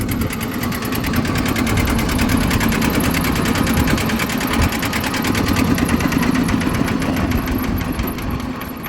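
A small used vehicle engine with electric start and a five-speed gearbox with reverse idles nearby, giving a fast, steady mechanical ticking and buzzing rattle that runs evenly from start to finish.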